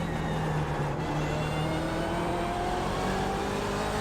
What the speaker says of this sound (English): And braking down into second gear.